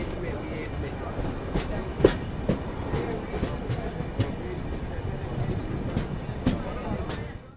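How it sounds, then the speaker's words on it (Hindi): Duronto Express train running on the rails through the Konkan region near Ratnagiri, a steady loud rumble with rhythmic clickety-clack wheel beats heard from inside a 3rd AC coach, with faint voices in the background. "बिल्कुल ट्रेन चल रही है राइट टाइम।"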